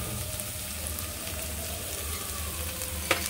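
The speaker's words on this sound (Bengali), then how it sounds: "এই যে পেঁয়াজটা হালকা ভাজা হয়ে গেল, পেঁয়াজ আর মশলাটা।" Onion and spices fry in oil in a pan for a Bengali tel koi fish curry, giving a steady, close sizzle with no talk.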